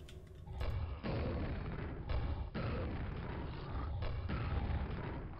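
Grenades go off in the video game Quake in a quick series of about five heavy booms spaced roughly a second apart, loud and close, each blast rumbling into the next, with no voices.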